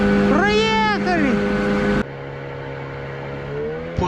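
A motorboat engine runs steadily on a river during a trip at the opening of the autumn hunting and fishing season, a loud, close drone whose pitch rises and dips briefly before settling into a lower, even hum.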